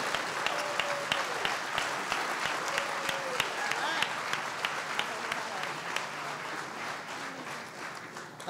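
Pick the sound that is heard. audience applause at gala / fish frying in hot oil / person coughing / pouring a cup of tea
audience applause at gala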